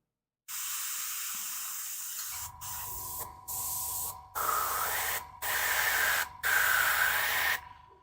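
An airbrush hisses steadily under air pressure, fed by an air hose, in several long close bursts separated by brief pauses, with no talking.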